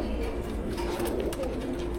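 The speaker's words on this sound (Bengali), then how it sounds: "জি, এটা নর কবুতর।" A male pigeon gives a low, continuous cooing close by, with a rough, throaty murmur and no voices.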